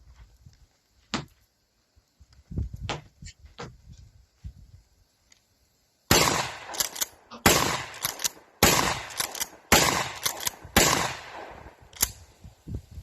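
A 12 gauge Mossberg pistol-grip pump shotgun fires at outdoor sand pits. After a quiet stretch of faint knocks and handling noise, about six loud, booming blasts follow one another at roughly one-second intervals, each ringing out briefly.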